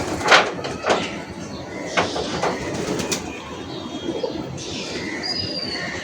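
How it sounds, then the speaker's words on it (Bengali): Pigeons feeding nearby give scattered pecks and rustles, with a few sharp taps and flutters over a busy background, plus brief bird cooing. "কবুতর খাচ্ছে, দেখেন।"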